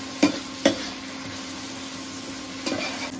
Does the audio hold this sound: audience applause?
no